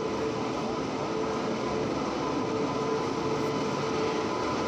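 Bhrigu Superfast Express train arriving at Anand Vihar station, hauled by a WAP-7 electric locomotive, gives a steady loud rumble of rolling rail stock with a faint tonal hum, continuous throughout with no speech.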